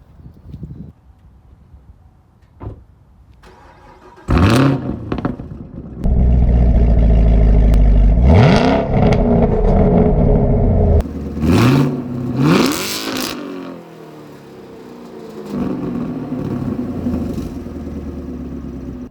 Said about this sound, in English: how to make the exhaust crackle and pop like no other